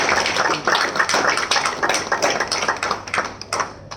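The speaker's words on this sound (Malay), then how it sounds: "Tepukan gemuruh, saya pinjam kuasa anda untuk saya bersemangat." An audience applauds, a dense, steady patter of many hands clapping loudly and close for several seconds without pause.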